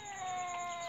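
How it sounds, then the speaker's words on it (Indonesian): Cat fight sound effect from a video editor app's sound library: a loud, sustained yowling caterwaul with a wavering pitch, heard alone and unbroken for under a second. "kucing berantem besar suara"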